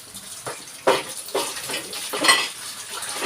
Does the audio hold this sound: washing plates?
yes